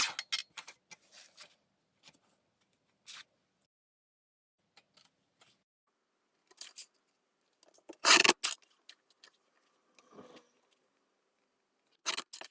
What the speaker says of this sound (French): Et je coupe le surplus.